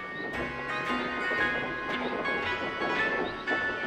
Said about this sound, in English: When Mary and Bert joined us, the carousel horses took off across the field.